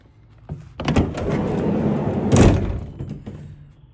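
Side door of a 2021 Volkswagen Transporter 2.0 TDI T30 long-wheelbase panel van is opened, giving a near latch click and a long rolling slide with a heavier thud toward the end, with no talk.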